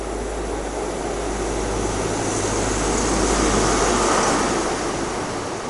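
A First Great Western train sits at or moves through a Devon station, a steady loud rumble with a broad hiss that swells gently toward the middle, with no talking.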